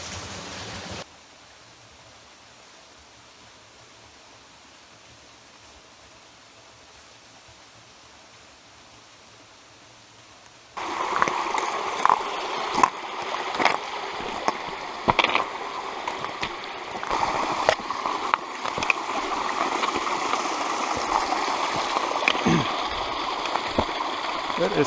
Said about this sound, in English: we're at the waterfall on Allen Brook